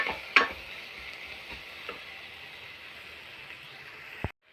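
Tomatoes sautéing with salt in a pan for Bombay sambar, a faint continuous sizzle with a few soft spoon clicks and scrapes, cutting off abruptly at the end.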